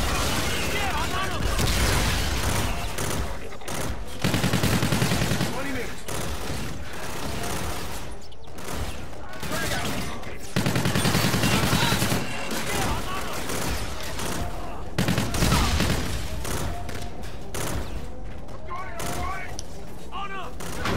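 Rapid gunfire and heavy booms crackle in bursts through a Call of Duty: Infinite Warfare battle against robots, with stretches of sustained shooting broken by brief lulls while a player talks over it.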